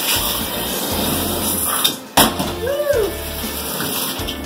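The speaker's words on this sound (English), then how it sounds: "You turn the water on and you try to divert it." Water rushes steadily from a faulty bathtub spout, set too far from the wall, as the diverter is pulled toward the shower; the close, hissing flow briefly cuts out midway, then resumes, with a faint voice and a few knocks.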